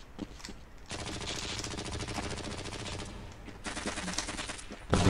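Rapid automatic gunfire in the shooter game Half-Life: Blue Shift, a dense rattling fusillade that runs for several seconds, briefly eases, then resumes, fairly quiet overall with no talk.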